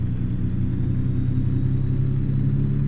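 An International truck engine in American Truck Simulator idles steadily with a deep, constant low rumble, loud and close, with no other sounds over it.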